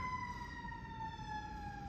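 A distant siren holds a steady, faint wailing tone, sounding far away beneath low background rumble.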